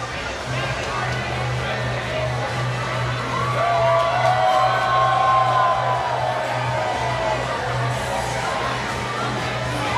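A large outdoor crowd at a Pride parade in Wilton Manors, Florida, cheers and whoops for a passing cheer squad, a dense continuous roar with shouts rising over it and a steady low tone underneath.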